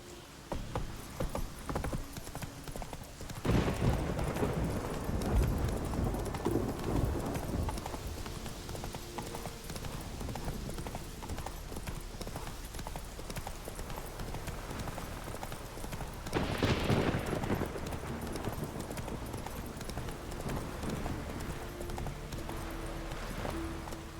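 Roach, the horse in The Witcher 3: Wild Hunt, gallops with steady, rapid clip-clopping hooves that run continuously under ambient game sound. A brief louder burst comes twice.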